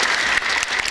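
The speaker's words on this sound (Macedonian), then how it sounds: "Еден аплауз за сите нас." A burst of audience applause at an educational lecture gathering, dense steady clapping from a crowd, close and fairly loud throughout the brief moment.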